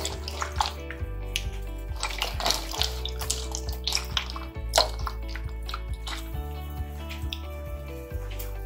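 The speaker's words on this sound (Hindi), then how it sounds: "इमली धोते हैं इसे।" Tamarind being washed in water in a home kitchen while preparing sweet golgappe water; soft sloshing and dripping sounds come faintly through steady background music.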